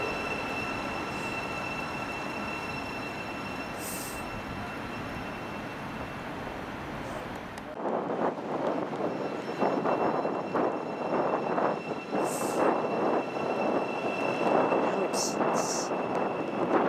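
An electric train pulls out of Brent Cross West station bound for Luton, a steady rolling rumble swelling louder partway through, with clacking wheels and faint high squeals over it.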